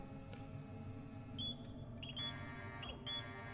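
A DOOM 3 game plays a few clear electronic beeps at irregular intervals, thin tonal chirps over a quiet steady background drone.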